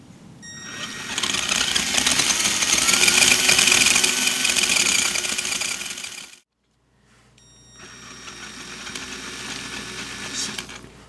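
An Axial SCX10 RC crawler drivetrain whirs with a rapid, ratcheting gear chatter from the axle for about six seconds. After a brief silence it runs again, quieter and smoother.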